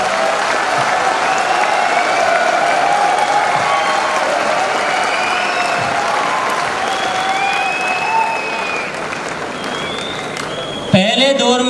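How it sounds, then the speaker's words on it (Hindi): A large seminar audience applauds at length, a dense, sustained wash of clapping with crowd voices mixed in. The clapping fades near the end and then cuts off abruptly. "आप इसके लिए जी भर के तालियां बजा सकते हैं"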